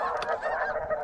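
Geese honk during a duck and goose hunt, several overlapping nasal calls from a flock carrying clearly at fairly close range with no talking over them.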